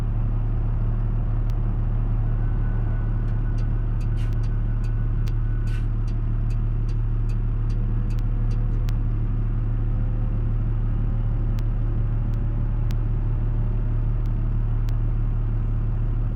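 A truck pulling a long train of trailers in BeamNG hums along steadily at a mid-pitched engine drone, with a constant low rumble and occasional faint clicks and ticks over the top.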